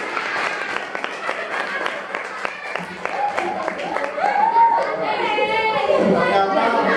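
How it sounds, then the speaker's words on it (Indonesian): Children clapping in a classroom, scattered and uneven at first, then mixing with excited kids' voices and chatter that grows louder toward the end. "Ya, beri tepuk tangan terlebih dahulu."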